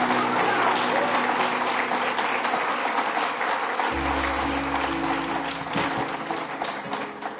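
Sustained applause from a large church congregation, dense and loud throughout with music in the background, tapering slightly at the end.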